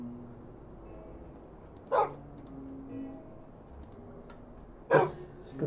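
In a video game, a dog gives two short barks about three seconds apart, fairly faint over a quiet background hum.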